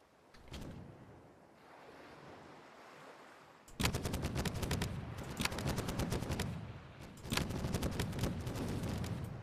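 Ship cannon fire in the pirate video game Caribbean!, a rapid barrage of loud cracking shots in two bursts over a steady wash of sea and wind, with a few scattered reports before them.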